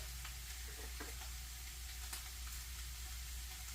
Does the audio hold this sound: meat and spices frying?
yes